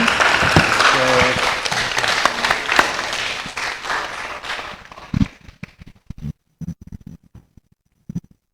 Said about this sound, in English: let's all give Sir Jimmy a big round of applause